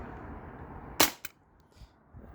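A Glock 19X Gen 5 CO2 BB pistol, fired on the fifth magazine from one CO2 cartridge, gives a single sharp crack followed by a fainter second snap against a quiet background.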